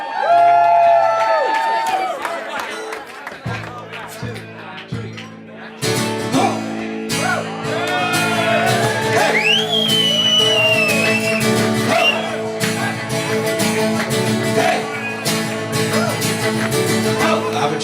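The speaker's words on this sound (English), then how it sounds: "Would you please give them a huge round of applause?" Wedding reception guests cheer, whoop and clap for the couple Joanna and Stephen entering the floor, first under a fading music passage, then a busy crowd roar layered with loud upbeat music.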